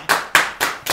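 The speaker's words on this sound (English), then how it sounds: "Why is everyone today clapping in sync with each other?" A group clapping together in unison, four sharp synchronized claps at an even quick pace, close and loud with no talk.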